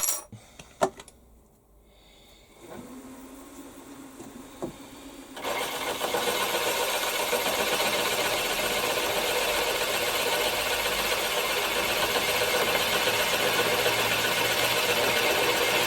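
A small milling machine with a boring head takes a light half-millimetre cut on a large plate. It starts with a few clicks and thumps, then a low motor hum, and settles into a steady loud whirring cut.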